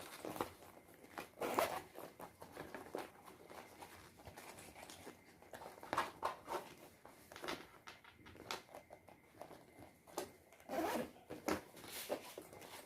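A zipper on a sewn unisex fanny pack is pulled open in several quick, raspy bursts spread across a quiet room, with pauses between pulls and no talking.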